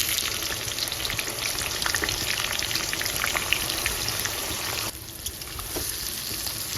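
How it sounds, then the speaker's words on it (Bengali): Sliced onions frying in very hot oil for birista, a loud, dense, continuous crackling sizzle close by that dips briefly partway through, with no voices. "তেল ভীষণ ভালো করে গরম হয়ে গেছে এবার এক এক করে আমি পেঁয়াজ ছেড়ে দেবো"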